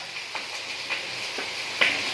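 Steady sizzling of food frying in a pan, a broad crackling hiss with a few brief pops and clinks, fairly close and continuous.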